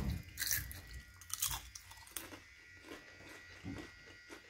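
Someone chews a crunchy snack close to the microphone, with sharp crackling bites early on followed by softer, irregular munching, quiet and without talk.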